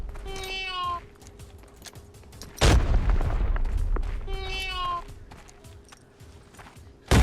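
A grenade goes off in the shooter game Arena Breakout: one sudden, heavy blast at close range, followed by a few seconds of rumbling debris, with a cat-like meow sounding before and after and a second loud burst cut off at the end.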